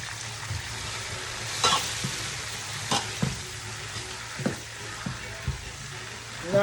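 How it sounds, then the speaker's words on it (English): Seasoned onions sizzle steadily in a pot for chicken yassa, with a spoon scraping and knocking against the sides every second or so, close and moderately loud. "So now it's time to add the onions, the seasoned onions."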